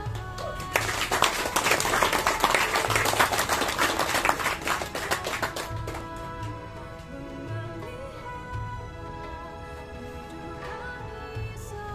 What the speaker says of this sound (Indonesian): Terima kasih dan tepuk tangan untuk Mas Ivan.